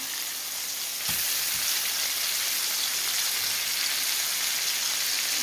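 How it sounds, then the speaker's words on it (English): Burgers glazed with sugary barbecue sauce sear in a hot pan, a loud continuous sizzle that jumps up after a second and holds steady, close by and without voices. "the way that I like to do burgers is to cook them on one side till you get a good sear"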